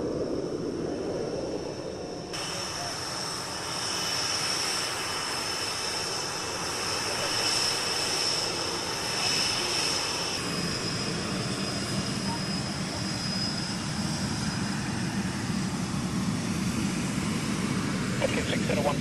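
An aircraft engine drones steadily and loudly while the plane taxis toward the northern taxiway, a broad continuous roar with radio voices talking over it.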